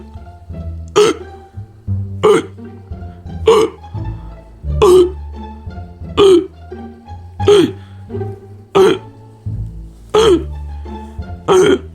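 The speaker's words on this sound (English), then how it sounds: "I try to look for remedies for hiccups attacks" Cartoon character's hiccups, a series of about ten sharp, gulping hiccup bursts spaced roughly every second, loud and close over a low musical background.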